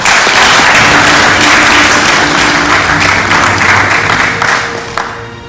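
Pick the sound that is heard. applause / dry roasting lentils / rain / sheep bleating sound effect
applause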